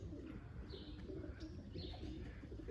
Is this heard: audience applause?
no